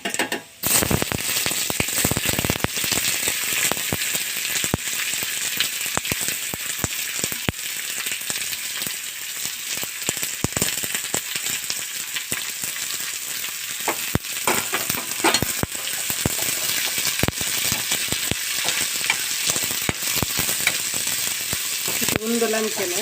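Onions fry in a pan with a steady, close sizzle and frequent scraping clicks of a spoon stirring against the pan, a voice occasionally audible over the cooking.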